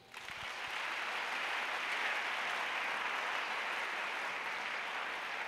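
A church congregation breaks into sustained applause that swells within a second and holds steady and dense, with no voices breaking through.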